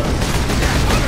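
Sustained heavy gunfire in the sci-fi shooter Warhammer 40k: Space Marine, a loud, dense roar of shots and blasts filling the whole second with no pause.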